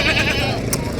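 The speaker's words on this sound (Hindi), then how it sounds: "माशाल्लाह, बहुत मोटा बकरा है।" A goat bleats at a busy livestock market, one short cry rising briefly over a constant crowd murmur and shuffling noise.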